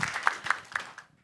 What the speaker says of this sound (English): Yes, please clap.